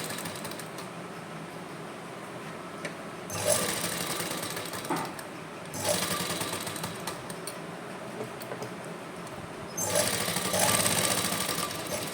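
A sewing machine stitches pleats into a silk suit, running in three loud bursts of rapid mechanical clatter separated by quieter pauses of handling and faint rustle.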